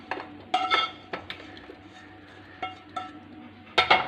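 In a home kitchen after frying prawns, a metal pan is set back down and cookware is handled, giving scattered sharp clinks and clattering knocks spread across a few seconds, close and fairly distinct, without speech.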